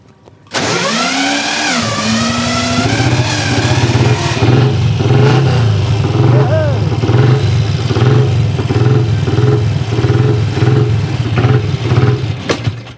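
A BSA Starfire 250 motorcycle that had sat unstarted for 40 years fires up after a brief cranking catch. Its single-cylinder engine then runs loud and close, with a steady thumping idle and a few revs, and nobody talks over it.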